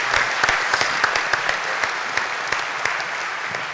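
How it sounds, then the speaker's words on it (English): Applause from an audience at a leadership conference, a steady sustained clapping with some louder individual claps throughout, with no voices over it. "a round of applause for that"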